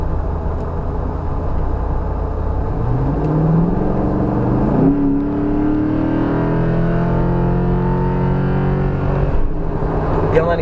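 Jeep Wrangler JK fitted with an L96 6.0-litre V8 pulling hard, a loud, steady engine drone rising in pitch through the gears, heard close and continuous.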